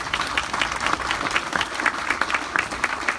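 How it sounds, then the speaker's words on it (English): An audience at a wreath-laying ceremony applauds after a speech, with steady, moderately close clapping from a crowd that continues throughout at an even level. "let us once again applaud Brother Michael Streetley on his speech today"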